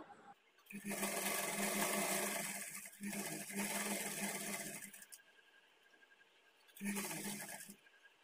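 A sewing machine stitches a blouse seam in two long bursts of steady, busy whirring, then pauses and runs briefly again; the motor is close and fairly loud with no talking over it.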